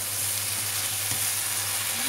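Chicken liver stir-fried with satay in a hot pan, giving a loud, continuous close sizzle and frying hiss with faint stirring underneath.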